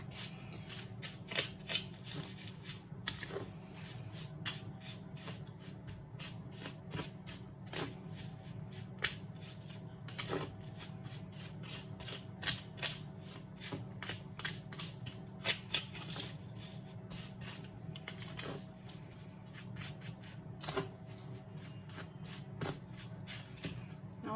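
Cinnamon and brown sugar are broken up and stirred in a bowl for apple pie bites: a steady, quiet gritty scraping and rubbing close by, with occasional sharper ticks and no talking.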